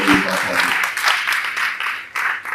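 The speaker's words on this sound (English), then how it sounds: "I'm going to request one round of applause for the amazing Honorable Nana" Conference audience gives a round of applause for an honorable guest, a dense steady wash of many hands clapping in a large hall, with a voice briefly heard at the start.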